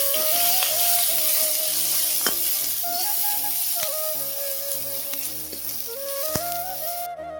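Capsicum and beans fry together in hot oil for fried rice, a continuous sizzling hiss with a steady melodic tune playing over it throughout.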